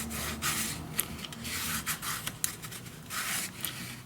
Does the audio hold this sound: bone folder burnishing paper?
yes